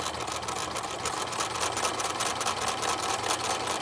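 A sewing machine runs steadily, stitching fabric for a homemade dinosaur Halloween costume, a close, continuous mechanical whir with fine rapid pulsing and no speech.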